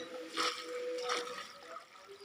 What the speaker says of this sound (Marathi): आता पाणी टाकलं बघ कसं होईल ते लगेच